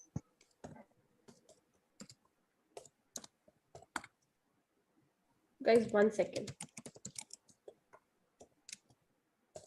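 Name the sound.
typing on a keyboard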